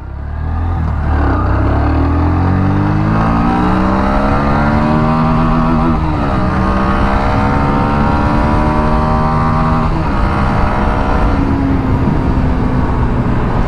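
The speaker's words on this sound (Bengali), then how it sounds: "তো প্রথমে আমি গাড়িটা ভাই স্টার্টিং করলাম।" A Bajaj Pulsar NS 125 motorcycle engine from a 2024 model runs loud and close, climbing in pitch as it accelerates through gears, with a brief dip and rise around each shift and a continuous droning exhaust throughout.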